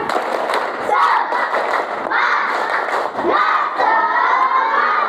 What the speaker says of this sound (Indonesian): kita tepuk semangat dulu ya. Oke. Tepuk semangat.